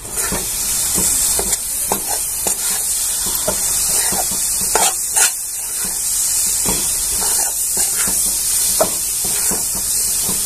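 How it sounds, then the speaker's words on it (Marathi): Milk cream (malai) being stirred in a hot pan for modak, a loud continuous hiss with repeated sharp scraping strokes of the spoon, close up and without speech. "मलाई घालून घेतोय. छान अशी आता हलवून घ्यायची आपल्याला इथं."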